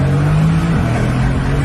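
A Mercedes-AMG GT engine pulls hard under acceleration from inside the car, a loud steady drone that dips briefly as the gear changes, then climbs again.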